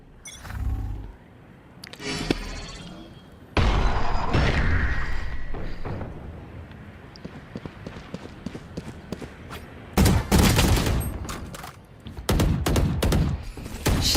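Gunfire in the Valorant video game: rapid bursts of weapon fire and sharp shots, loud and close, with separate volleys, heavier at the start and again near the end.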